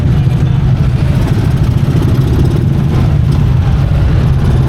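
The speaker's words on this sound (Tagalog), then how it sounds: "Tricycle kami." A motorized tricycle's engine runs steadily during a ride on a hot, crowded, traffic-filled street, a loud, close, low rumble with no break from start to finish.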